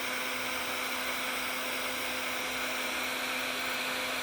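A heat gun blows a steady, loud hiss of hot air, shrinking heat shrink tubing over a twisted and soldered short wire extension. The blowing stays constant throughout with a faint hum under it and no talking.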